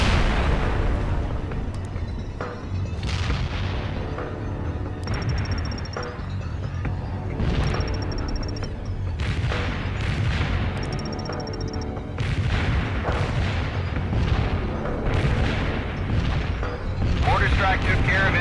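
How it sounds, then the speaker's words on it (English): Mortar strike explosions in a strategy video game: a run of heavy, booming blasts over a dense, continuous roar, landing every few seconds and staying loud throughout. "Zulu 9 are firing mortars at the target coordinates."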